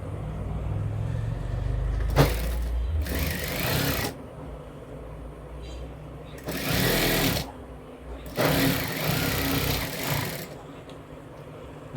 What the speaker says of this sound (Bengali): এটাও তাই একটা পাশে সেলাই দেবো একটা।